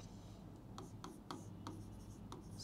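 Pen writing on paper during a physics lesson, a series of short scratchy strokes in an uneven rhythm, close and fairly faint over a steady low room hum.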